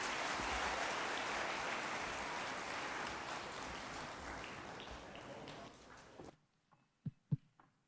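Audience at a Katiba Day commemoration at KICC in Nairobi gives His Excellency a dense round of applause that gradually thins and stops abruptly, leaving a few isolated thuds and scattered claps in near silence.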